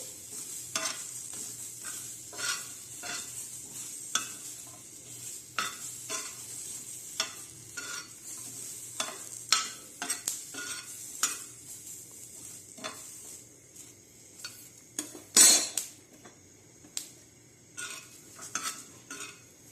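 Green chillies dry-roast in a pan without oil and are stirred with a utensil. Faint sizzling runs under repeated scraping and clinking strokes, with one louder metallic clatter near the end.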